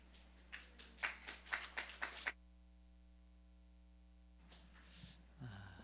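A Korean church congregation at a Hawaii Presbyterian Sunday service claps in a short, lively burst of about two seconds, then falls silent over a steady low electrical hum.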